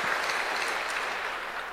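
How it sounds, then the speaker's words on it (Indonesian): Applause from a church congregation at a Christmas service, steady dense clapping filling the whole stretch at a fairly even level with no voices over it. "tepuk tangan dulu untuk Tuhan Yesus"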